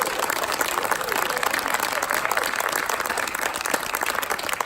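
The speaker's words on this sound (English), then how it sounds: "could we have a semi-raucous round of applause for the panel?" An audience at an MIT Enterprise Forum panel on the AR/VR/MR industry gives a lively round of applause, continuous clapping with a faint crowd murmur beneath it.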